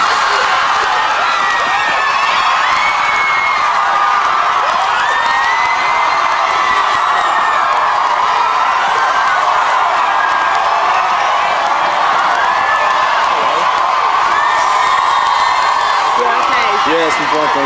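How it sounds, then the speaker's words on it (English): A massive crowd of fans cheers, whoops and shouts continuously outside the Big Brother house at an eviction, a loud dense roar throughout with overlapping voices. "You have got such a massive, massive, massive crowd of fans out here."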